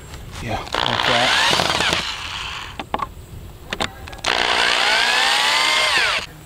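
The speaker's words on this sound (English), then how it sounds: "Best thing to do is just drill one all the way through." A power drill bores through a wooden frame joint on a Thai longtail boat, with two loud sustained whining bursts separated by a pause filled with clicks and brief sounds, and people talk nearby.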